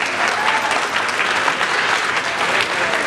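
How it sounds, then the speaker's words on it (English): Dense, steady audience applause fills the whole stretch at a loud, even level, a wash of many hands clapping together with no talk over it. "Give them a round of applause."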